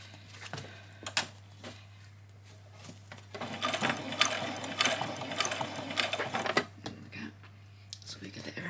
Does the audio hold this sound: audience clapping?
no